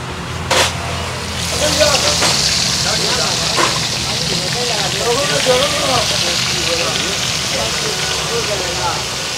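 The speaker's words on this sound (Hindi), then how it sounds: "अब बटेर को फ्राई किया जाएगा" Marinated quail sizzles as it fries in a street-food kitchen in Patna, a steady crackling hiss running under background voices and clatter, with a couple of sharp knocks early on.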